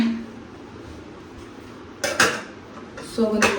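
A metal lid is set onto a cooking pot on the stove, giving two close clattering clanks about a second apart, with some quieter handling noise before them.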